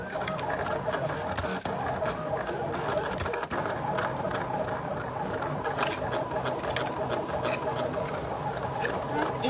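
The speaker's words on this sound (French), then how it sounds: "j'attends que ma machine se termine, ma petite silhouette termine la découpe" A Silhouette cutting machine cuts out a gift box, giving a steady close-up mechanical whirring and buzzing with faint ticking motor movements that run without a break.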